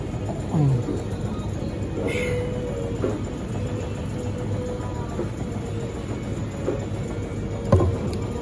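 Steady rumble and rattle of a Singapore MRT train in motion, heard from inside a car, with occasional clanks and faint voices nearby.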